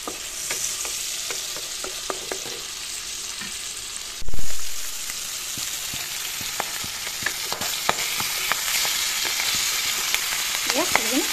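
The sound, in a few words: fish frying in a pan on low heat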